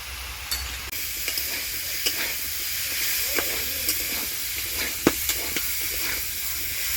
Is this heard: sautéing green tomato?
yes